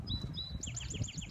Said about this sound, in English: You can really hear the birds chirping